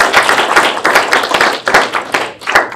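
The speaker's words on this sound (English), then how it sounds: "So let's give them a round of applause." Audience at a student government senate meeting giving a round of applause, a short burst of dense, loud, close clapping from a room full of people.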